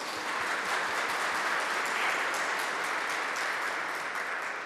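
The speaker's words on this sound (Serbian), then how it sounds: "želimo da im zahvalimo velikim aplauzom" Sustained applause from an audience at an award ceremony for a women's exhibition, thanking its corporate partners: dense, even clapping filling the whole stretch at moderate volume, with no voices over it.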